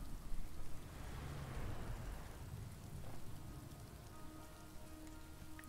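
Steady rain pattering on a surface in the video game Road 96, a continuous dense hiss with a brief low rumble of thunder early on, no voices.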